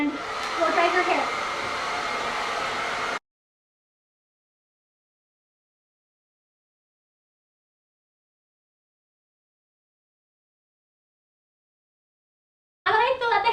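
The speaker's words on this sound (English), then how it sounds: "I'm going to go in here and blow dry her hair" A hair dryer blow-drying long hair, a steady loud whooshing blast for about three seconds that cuts off abruptly, then silence until it starts again briefly at the end.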